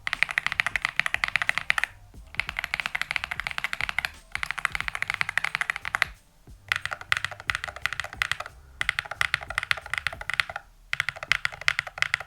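Steady, fast typing on a modded KiiBOOM Cybrix29 Hall effect keyboard with deep, muted keystrokes, heard up close in bursts separated by brief pauses.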